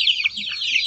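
Incubator-hatched chicks in a wire-mesh gallery pen give a dense, continuous chorus of high, shrill peeping and cheeping, close by and steady throughout, with no talking.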